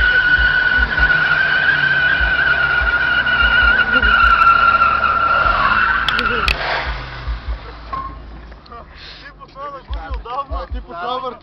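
An Opel Astra drifts with its tires spinning, giving a long loud sustained squeal that breaks off into choppy engine and tire bursts, with people talking over it.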